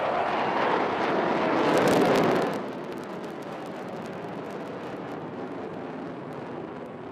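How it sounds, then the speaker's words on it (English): A Rafale fighter jet releasing flares sweeps low over the ocean at the Chennai Air Force Day air show on Marina Beach. Its loud roar peaks as it passes, then fades into a long, lingering rumble. "the aircraft approaches from the right over the ocean water, dispensing flares and shortly shall be pulling up to inaugurate the function as an aerial salute"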